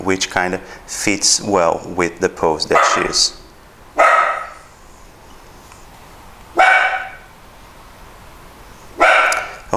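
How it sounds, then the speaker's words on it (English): A dog barks in short bursts, loud and close, several separate barks spaced a few seconds apart after someone speaking. "Okay, that's my dog barking."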